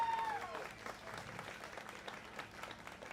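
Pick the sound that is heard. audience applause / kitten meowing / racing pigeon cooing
audience applause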